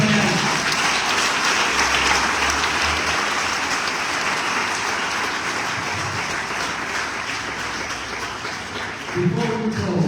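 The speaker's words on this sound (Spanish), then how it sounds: "Vamos a dar un aplauso a Dios en esta mañana." A church congregation at a morning conference service in Cortázar, Guanajuato claps together in steady, dense applause that fills the room for about ten seconds, fading a little before a brief swell near the end.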